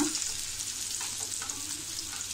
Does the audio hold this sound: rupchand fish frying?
yes